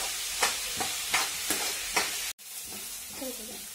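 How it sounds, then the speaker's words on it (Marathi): Onion and cauliflower sauté in a pan with a steady sizzle, punctuated by regular scraping strokes of a spatula about every half second, a brief cut, then more stirring and frying. "आता आपण याला मस्तपैकी परतून घेऊ."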